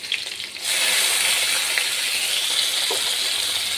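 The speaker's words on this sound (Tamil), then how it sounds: "பூண்டு ஆட் பண்ண உடனே லைட்டாக வதக்கி விட்டுக்கோங்க" Garlic frying in a hot pan for a fish curry: a loud, steady, dense sizzle that bursts in suddenly after a brief quieter moment and holds evenly to the end, with no talking.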